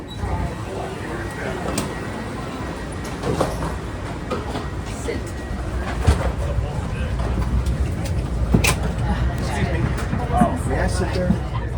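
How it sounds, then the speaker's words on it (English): A train arriving at Denver International Airport, a continuous rumbling roar with scattered clicks and rattles building slightly, heard amid a busy station with background voices. "A train is arriving."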